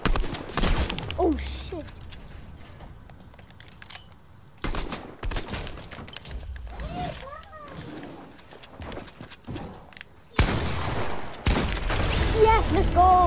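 Fortnite gunfire, including sniper rifle shots, cracks in sharp bursts amid other game effects, with players talking excitedly over the action.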